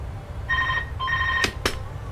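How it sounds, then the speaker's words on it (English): A phone rings in a room, two electronic trills of ringtone followed by a couple of sharp clicks or knocks nearby. "And my phone's ringing."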